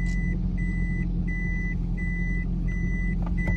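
A car's reversing warning beeper sounds in a regular on-off pattern, several evenly spaced tones over a steady low engine hum inside the vehicle, with no one speaking.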